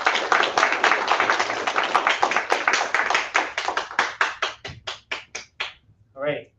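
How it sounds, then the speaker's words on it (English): A conference audience at a university student branch mini conference gives a round of applause for a speaker, dense clapping that thins out into a few scattered, slowing claps before stopping. "Another round of applause for Gary."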